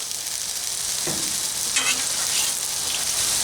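Beef stir fry sizzles steadily in oil on a hot Blackstone griddle, a loud continuous hiss with brief louder spatters as food is moved.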